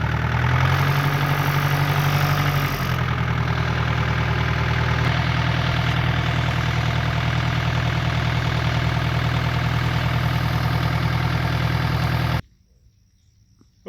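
A Kubota L2850 tractor engine idles steadily and loudly up close, a constant low diesel drone with a slight shift in pitch early on, before cutting to near silence at the end.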